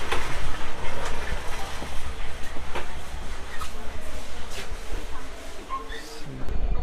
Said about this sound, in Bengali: এটা হচ্ছে ট্রেনের লোকোমোটিভ তো এটা কিন্তু ঘুরিয়ে নিয়ে আসা হচ্ছে সামনে